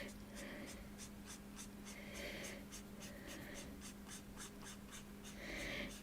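A coloring pencil scratches across textured paper in quick, even strokes, a soft rhythmic rasping close up with a steady low hum behind it.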